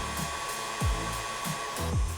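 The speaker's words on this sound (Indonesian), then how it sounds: "setelah itu kita stop dulu mixernya" An electric stand mixer whirring steadily as it beats cake batter, a continuous loud motor hum with slight periodic swells.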